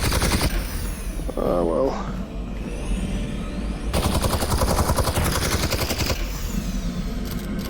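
Gunfire in a firefight against Combine soldiers in Half-Life: Alyx, with bursts of automatic fire and clattering shots running throughout, partly under a player's speech.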